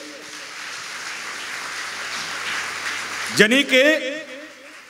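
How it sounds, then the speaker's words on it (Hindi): A congregation claps together at a worship service, a dense, steady wash of hands lasting about three seconds before it cuts off and a voice carries on speaking. "ताली बजाइए।"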